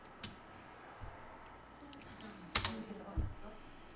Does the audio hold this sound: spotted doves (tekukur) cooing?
no